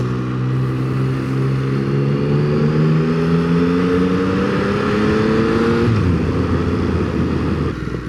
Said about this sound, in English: exhaust sound check